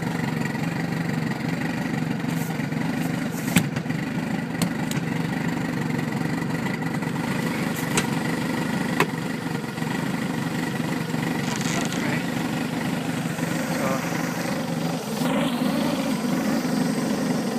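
A Bayliner Capri boat's 2.3-litre Pinto engine idles with a steady, even mid-low drone heard up close, with no talk over it and only small bumps and clicks along the way.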